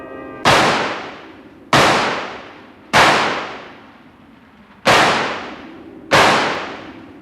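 Gunshots in a horror film scene: five sharp, loud cracks, each followed by a short decaying tail, spaced about a second or more apart, with no talking.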